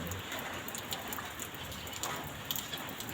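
Steady rain falls outside in the BPD Mulyasari housing complex in Surabaya, a dense continuous patter of drops on surfaces, fairly close and even in intensity.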